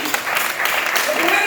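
An audience at a panel discussion in Accra claps together, a dense, sustained patter of many hands filling the room at a steady loudness.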